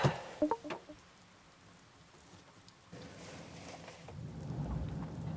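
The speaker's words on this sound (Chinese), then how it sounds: "今天还有点小雨。" Soft, steady patter of light rain falling outdoors, with a few faint knocks at the start and a low rumble building toward the end.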